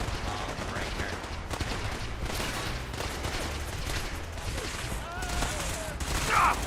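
Sustained gunfire from settlers in Fallout 4, a dense, continuous fusillade of shots and bursts running throughout at steady loudness, with brief louder flares near the end.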